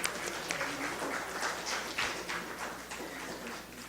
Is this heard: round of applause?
yes